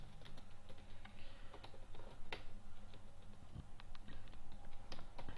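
Code is typed on a computer keyboard in quick, irregular runs of light clicks and taps at close range, with no voice over them.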